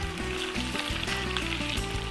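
Potatoes fry in olive oil in a pan for a Spanish tortilla, giving a dense, continuous sizzle with bubbling crackle and a few small stirring knocks, close and alone.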